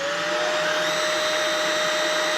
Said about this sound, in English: This is the power nozzle in setting 2 for regular carpeting